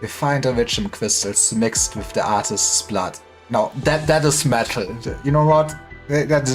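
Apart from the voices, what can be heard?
No everyday noise stands out behind the speech.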